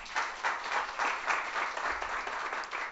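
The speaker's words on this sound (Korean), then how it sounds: "박수 한 번 더 주고 갑시다" An audience at a business workshop applauds, with dense, fairly faint clapping in several swelling waves over a few seconds and no one speaking.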